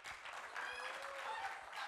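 Studio audience on a television variety show applauds for a guest, a fairly soft, continuous patter of clapping with faint musical tones underneath.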